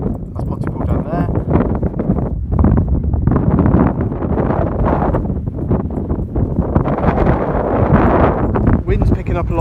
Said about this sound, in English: Wind's picking up a lot now as we're getting a bit higher